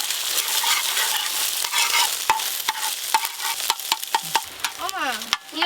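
Eggs scramble and fry on a hot tawa for egg chowmein, with a steady sizzle and repeated sharp spatula scrapes and taps against the pan.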